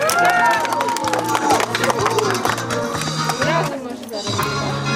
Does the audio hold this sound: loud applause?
yes